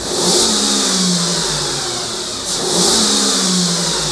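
A used German Mercedes V8 with sixteen spark plugs revs twice after a restart, each rise and fall of the engine loud and close over a steady idle.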